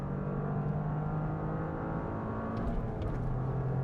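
A 2023 Toyota GR Corolla driving fast on a track in track mode, its engine a steady loud drone with tire and wind noise throughout.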